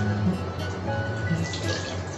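Tap water runs steadily into a sink while hands are wetted and washed with soap in a caregiving handwashing routine, a continuous close hiss with no talk.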